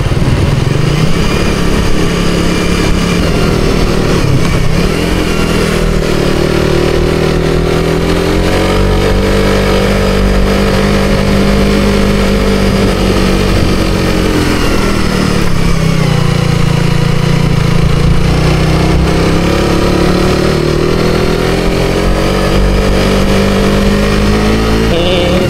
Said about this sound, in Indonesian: Ini motor kalau nggak sehat bahaya.